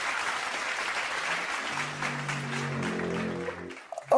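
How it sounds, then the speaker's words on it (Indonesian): Steady applause from a seminar audience welcoming the speakers, a dense, even wash of clapping that holds level throughout, with a few louder bumps and a brief voice near the end. "langsung saja kita sambut dan beri tepuk tangan yang meriah untuk para narasumber kita"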